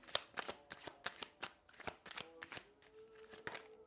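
Tarot cards being shuffled: a rapid run of soft riffling card flicks, close but very quiet, about a dozen quick snaps in an uneven rhythm with no talk.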